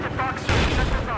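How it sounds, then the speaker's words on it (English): An RPG explodes in Battlefield 4, a sudden heavy burst over a constant din of combat, with voices talking throughout. "Some guy got me with an RPG from like across the river"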